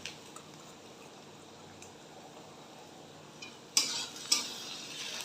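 Ginger garlic paste hitting softened onions in a pan for chicken pulao, a low steady sizzle with a couple of sharp clinks and scrapes of a utensil near the end.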